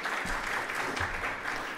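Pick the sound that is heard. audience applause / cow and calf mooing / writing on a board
audience applause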